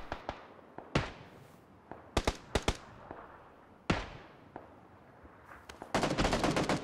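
Bursts of AK rifle fire in a PUBG match: scattered single cracks and quick double shots, some near and loud, others softer, ending in a dense rapid volley.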